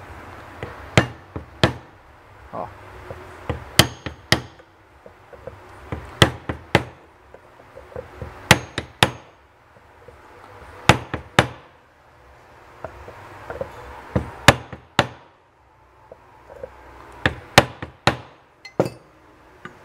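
Sharp metallic taps from a small hammer pressing a seal into a Honda Civic power steering pump ring out repeatedly, in small groups of quick strikes with brief pauses, close and crisp over a low background hum.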